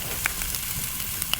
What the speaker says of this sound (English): so you can hear that sizzling